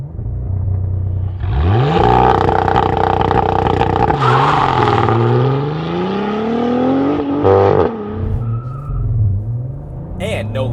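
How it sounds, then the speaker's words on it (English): A 2023 Cadillac CT4-V Blackwing launching hard on launch control, engine roaring and rising through gears with audible shifts, loud and close, with people speaking over it. "Cadillac CT4V Blackwing with launch control"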